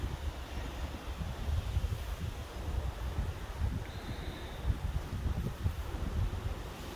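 Wind buffets the microphone at a hilltop churchyard by Advent Church, a steady rumbling gust that swells and eases throughout, heard alone with no voices.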